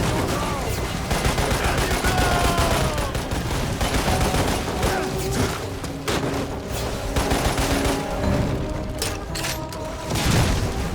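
Rapid gunfire rattles through Lost Planet: Extreme Condition, with dense bursts of machine-gun shots and heavier booms crowding together, loud and continuous throughout.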